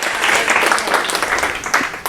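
A seminar audience claps for a participant at a storytelling talk, a brief burst of mixed hand claps, fairly close and loud, lasting about two seconds before tapering.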